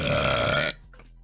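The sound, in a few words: burping after drinking Pepsi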